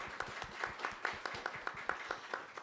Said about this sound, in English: Clap, please.